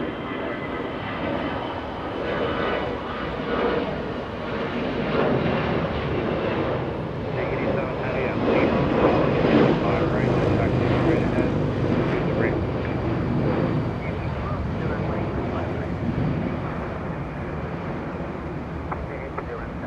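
An Air Tahiti Nui Boeing 787 Dreamliner at LAX, close by, makes a broad jet roar that swells through the middle and eases off toward the end.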